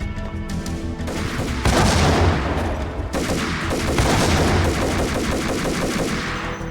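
Loud, sustained gunfire in the 2001 game Max Payne, with rapid automatic bursts and heavy shots packed close together over a constant roar, no talk.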